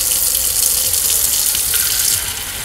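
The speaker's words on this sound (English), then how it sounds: "you can put the water inside." Tap water pours steadily into a Joseph Joseph Wash & Drain Bowl, a loud, continuous hissing splash that holds constant, then softens slightly near the end as the bowl fills.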